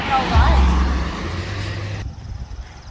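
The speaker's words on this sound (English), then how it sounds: "That was a pretty cool police car that just passed by." A police car rushes past nearby, its engine and tire noise swelling then fading, with a short siren-like whoop at the start.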